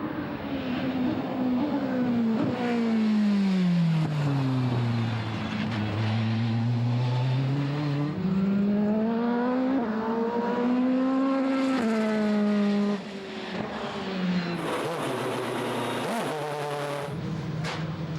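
A Mercedes CLK racing car with a 4-litre V8 revs loudly and steadily for a long stretch, its pitch sweeping down and back up again, then cutting off near the end.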